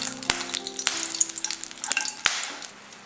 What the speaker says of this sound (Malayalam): ഇതൊന്ന് ഈ എണ്ണയിലൊന്ന് മൂപ്പിച്ചെടുക്കണം.